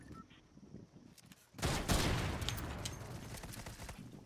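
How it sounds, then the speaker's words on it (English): A video game minigun opens up after a quiet moment with a sudden, sustained roar of rapid-fire shots that keeps going for several seconds at close range, with no talk. "you should actually pick up that minigun and just be toxic with it"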